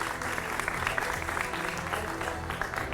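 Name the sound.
studio audience applause welcoming a TV debate guest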